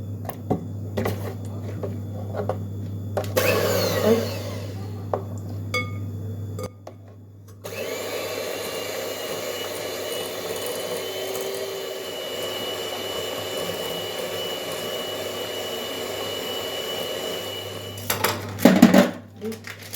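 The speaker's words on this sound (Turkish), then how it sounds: "Şimdi bunları güzelce çırpıyorum. Köpük köpük olana kadar." An electric mixer whips orange cake batter ingredients until foamy, a steady motor whir running for about ten seconds after some clattering of kitchenware, ending with a brief knock.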